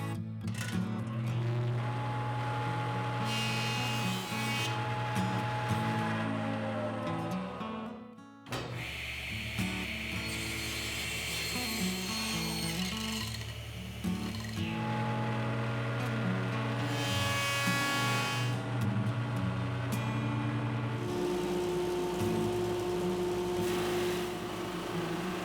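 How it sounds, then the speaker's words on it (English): A 2x8 wooden board is milled down to size in a workshop, the power tool's motor whining steadily and loudly with shifting pitch as the wood feeds through. A brief pause breaks the run before the cutting resumes. "I'm going to mill this down to 6 1/4 by 1 3/8 inches."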